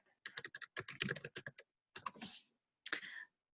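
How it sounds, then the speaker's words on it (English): Someone types on a computer keyboard during an online meeting, with close, quick bursts of clicking keystrokes followed by two short separate runs. "let me type it in here"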